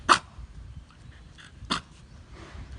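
A Bangkaew dog gives two sharp, close barks about a second and a half apart, with soft breathing and faint whimpering in between; no voices.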